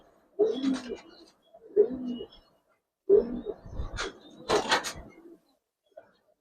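Silver Giribaz pigeons coo in several short bursts with pauses between them, fairly close and moderately loud, with no talk over them.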